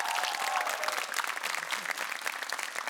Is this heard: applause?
yes